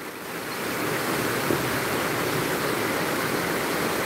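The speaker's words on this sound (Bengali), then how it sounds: "প্রচণ্ড বৃষ্টি হচ্ছে আমাদের এরিয়াতে," Heavy rain pours over a flooded street, a dense, even roar of falling water that swells slightly in the first half second and then holds steady and loud.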